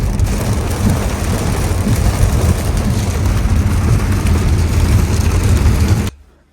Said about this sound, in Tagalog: Umuulan, tignan nyo, dark na dark. Lumakas yung ulan.